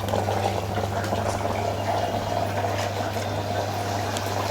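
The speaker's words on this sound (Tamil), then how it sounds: "இப்போ இது நல்லா கொதிக்கட்டும்." A pot of mutton korma bubbles steadily at a low simmer, a continuous soft burbling with a faint steady hum underneath, no voices.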